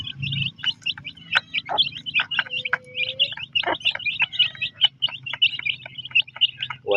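A brood of chicks, several of them, peeping in quick high chirps that overlap in a busy, continuous chatter, close up and moderately loud, with no voices.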